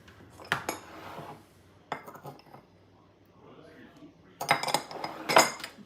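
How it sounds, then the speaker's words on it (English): Metal spoon stirring baking powder, salt and dry ingredients in a bowl, bursts of clinking and scraping against the bowl separated by quieter pauses. "Just mix these with my spoon."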